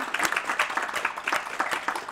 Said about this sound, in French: je pense qu'on peut applaudir et remercier Olivier de sa présence aujourd'hui